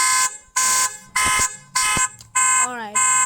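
A car alarm in panic mode blasts loud, close, harsh electronic tones in regular on-off bursts, then switches to a rising and falling siren whoop near the end.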